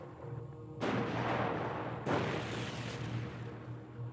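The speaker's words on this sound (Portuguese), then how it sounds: "ambos os lados continuam trocando tiros" Heavy gunfire exchanged during a Pacific War battle against enemies in caves, loud bursts of rifle and artillery-like reports starting sharply and rolling on continuously, with a second strong volley midway, no voices.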